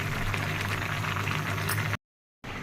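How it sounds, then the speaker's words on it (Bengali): Fish simmering in a pot, a steady close bubbling boil that cuts out briefly near the end, no talk. "এই মাছগুলোই এখন রান্না করতেছি"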